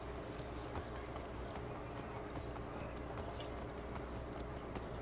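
Horse hooves clip-clop in a quick, steady rhythm over a dense background hum, sounding close and continuous, in the video game Assassin's Creed 3.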